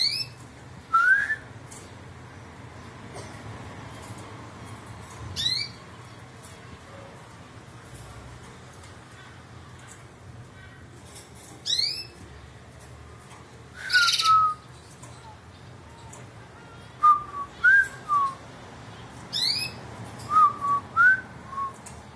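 A robin sings outdoors in short, bright whistled phrases separated by pauses, becoming more frequent toward the end over faint background hum.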